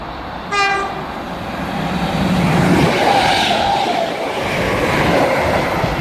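A Northern Class 319 electric train runs through Broad Green station on the Liverpool and Manchester line. It sounds a short horn tone early on, then passes as a loud, sustained rushing roar with rail noise.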